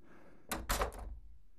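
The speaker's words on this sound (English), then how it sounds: "And then this is the door to the apartment." An apartment door in a three-bedroom Airbnb on Harvard is opened, giving a couple of close, solid knocking thunks and a brief rattle over quiet room tone.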